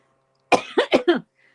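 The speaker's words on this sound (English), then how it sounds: "my cough isn't going away" Four quick, harsh coughs from a person with a lingering cough, close and loud in an otherwise quiet room.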